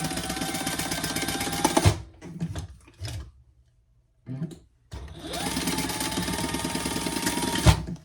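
A sewing machine stitches seams on a fabric sling, a loud close mechanical whir that runs, stops for a few seconds of clunks and near silence, then starts up and runs steadily again.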